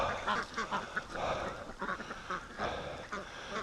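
Free-range ducks quacking in a yard while geese herd them back, with repeated loud rough quacks in bursts and some honks mixed in.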